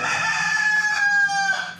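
A loud, close rooster-like chicken call rings out indoors in one sustained, drawn-out cry lasting under two seconds.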